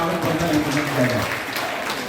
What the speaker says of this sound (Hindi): जोरदार तालियों से इनका स्वागत करना किया जाए